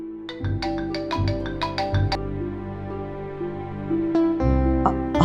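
A phone ringtone rings in a quiet room, a repeating bright melodic tone pattern with several quick chiming notes over a sustained lower musical backing, loud and close with no talking.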